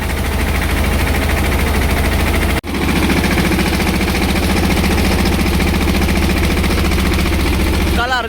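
A tractor engine drives a pesticide sprayer on a farm, a loud, steady, close throbbing drone with a heavy rhythmic pulse, briefly cutting out once before carrying on evenly.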